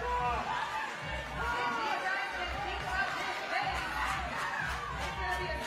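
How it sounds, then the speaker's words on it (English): Crowd at a CrossFit competition cheering and shouting for an athlete, a dense, steady hubbub of voices filling the background while a commentator talks over it. "You can hear everybody going crazy for him in the background."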